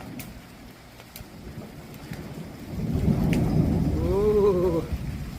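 Thunder rolls during a storm with steady rain, a low distant rumble that swells louder midway and lingers, while faint tonal sounds rise briefly near the end.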